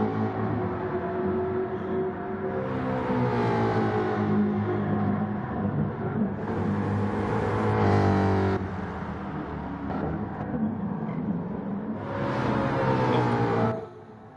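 Gran Turismo 7 Gr.4 race car engines at Fuji International Speedway drone steadily and fairly quietly, with rising and falling revs, gear-shift dips and occasional louder surges, and no talking over them.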